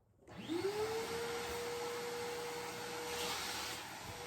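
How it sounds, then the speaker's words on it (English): Shop vac whirs up from silence into a steady, loud drone with a rising whine that settles into a constant pitch, used to vacuum dust off a wicker shelf, with no talking. "I'm going to give it a little shop vac"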